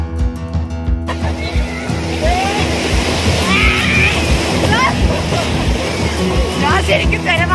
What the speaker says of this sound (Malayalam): ശരിക്കും തിരമാലയിൽ കൂടി നടക്കുവല്ല